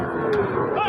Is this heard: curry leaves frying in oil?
no